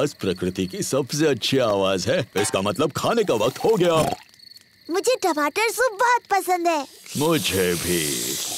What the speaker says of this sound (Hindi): ये कीड़ों की चींची आवाज है।